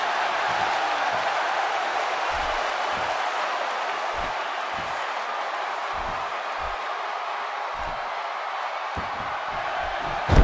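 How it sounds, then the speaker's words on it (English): An arena crowd in a wrestling video game keeps up a continuous roar of cheering and noise, with scattered thumps from the ring and no clear talk over it. "by the sound of this crowd, I think they're getting what they wanted"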